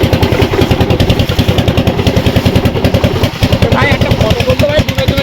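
The small boat's engine chugs loudly and close in the Sundarbans, a steady rapid pulsing throb that never lets up, with a voice briefly heard over it.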